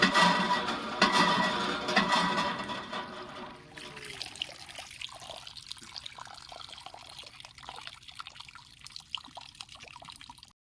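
Water gushes from a tube well tap, a loud, steady splashing stream for several seconds that then thins to quieter irregular trickling and dripping, close by with no talk.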